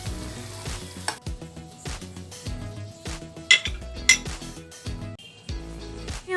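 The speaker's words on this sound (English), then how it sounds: "add some oil in a pan and dump all the tomato mixture into this" Tomato mixture cooking in an oiled pan, a soft continuous sizzle broken by repeated sharp clinks and scrapes of a utensil stirring against the pan, close and moderately loud with no talking.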